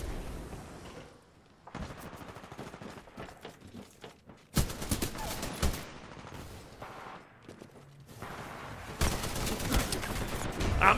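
Rapid gunfire from the video game Titanfall 2, with bursts of automatic weapon shots coming in loud clustered volleys that start and stop throughout, nearly continuous toward the end.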